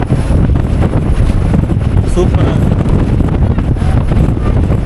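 Strong wind rushing past a moving TNSTC government bus on a trip from Trichy to Cuddalore, a steady loud buffeting roar with someone speaking briefly over it.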